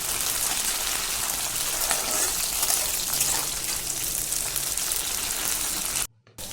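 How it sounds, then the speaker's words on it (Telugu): Curry leaves and turmeric fry in hot oil with a steady bright sizzle and crackle, close and even throughout, briefly cutting out near the end. "కరివేపాకు, పసుపు వేసి మొత్తం ఆయిల్లోనే ఫ్రై అవ్వాలి."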